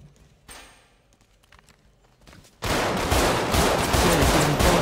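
GTA 5 roleplay gunfire: near silence with faint clicks, then an abrupt, dense and loud barrage of shooting that holds steady to the end.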